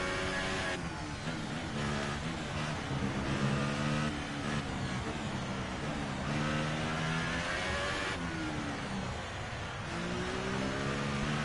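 Formula One race car engine in F1 2018 on a wet track, a loud high-pitched whine rising and falling steadily through upshifts and downshifts as the car accelerates and brakes, with no talking.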